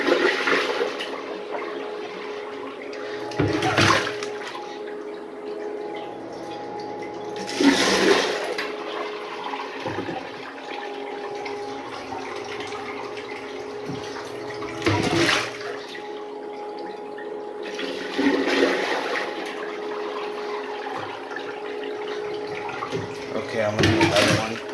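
A miniature 1989 Kohler Highcliff toilet flushes repeatedly, each close rush of water surging and draining with a siphon gurgle, several flushes spaced a few seconds apart while people talk in the background.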